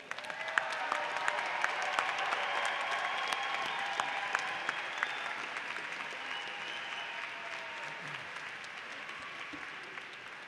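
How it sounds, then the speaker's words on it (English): A large audience at a university's fall undergraduate commencement ceremony applauds in a dense, steady wash of clapping that runs throughout and tapers off slightly toward the end. "Big round of applause."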